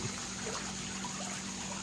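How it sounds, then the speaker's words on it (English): Water poured over Vanda orchid plants with long roots at an orchid show, a steady soft trickle and splash running continuously at moderate level with no talking. "I have watered these guys so much, I probably need to stop"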